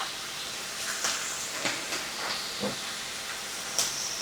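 Cabbage added to a hot skillet with about two tablespoons of leftover grease, giving a steady sizzling hiss with a few soft clinks and stirring sounds, no talking.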